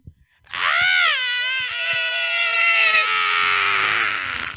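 A person imitates Godzilla's scream with a loud, sustained wailing roar that starts with a rising pitch and then holds steady for about four seconds. It is performed alone, with no talk over it.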